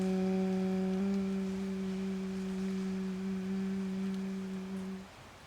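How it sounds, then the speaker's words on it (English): A sustained human hum on a steady low pitch, held evenly through one long exhale during a breathing practice, close and clear, fading out at the end with no talking. "Exhale with a hum"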